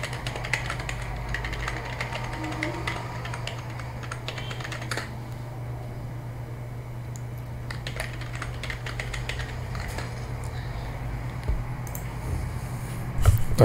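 Login credentials are typed on a computer keyboard in quiet, irregular bursts of soft key clicks over a low steady hum. No one speaks.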